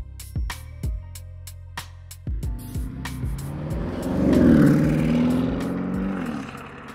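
A Porsche Cayenne Turbo GT pulls away, opening with a few sharp clunks and thumps before the engine swells into a rising, growling rev that peaks midway and holds as the SUV moves off, fairly close.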